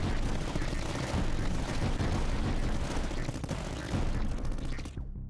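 Towers blasting away in the Tower Dominion game, producing a loud, unbroken barrage of overlapping gunfire and impacts that holds steady for several seconds before cutting off abruptly.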